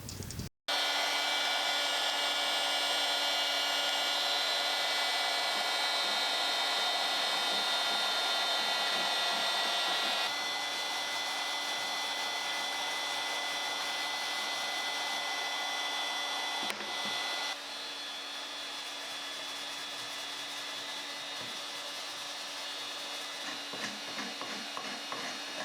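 A heat gun warming an old glue joint on an antique oak pedestal table base, a steady loud blowing whir that drops slightly in level partway through, with faint scraping underneath.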